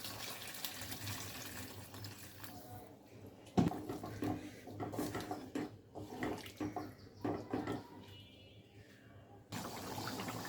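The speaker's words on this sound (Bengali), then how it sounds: "গরম জল দিয়ে দিব।" Hot water pours into a pot of spicy chicken kosha curry, a soft running, splashing stream that comes and goes in uneven bursts, fairly quiet and close.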